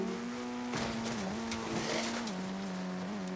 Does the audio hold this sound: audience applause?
no